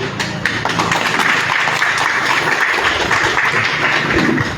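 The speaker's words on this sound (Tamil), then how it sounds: "பெரிய கரகோஷங்கள் கொடுங்க அவங்களுக்கு." Audience at a farmers' legal training meeting claps loudly and continuously, a dense, close burst of applause filling the whole stretch.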